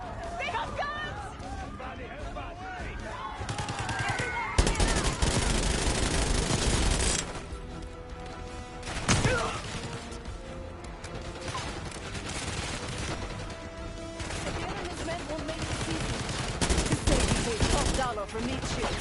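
Firefight in the Call of Duty Black Ops 6 campaign: bursts of automatic gunfire and scattered single shots rattle amid loud action, with game characters shouting and talking over the shooting.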